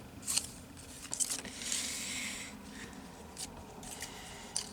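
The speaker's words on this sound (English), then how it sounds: "I get out the scissors." Quiet snipping and rustling of scissors cutting through paper, a few crisp cuts with a soft sliding rasp in between, close by.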